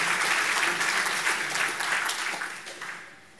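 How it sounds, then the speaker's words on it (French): A conference audience at a social housing general assembly applauds the winner of a social innovation fund award, with continuous clapping from many hands that slowly fades toward the end. "Et donc, applaudissements, c'est le vainqueur."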